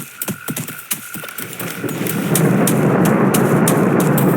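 Thunderstorm in the video game A Blind Legend: a few sharp crackles give way to a steadily building, loud, continuous rumble with a rain-like wash that swells and holds to the end.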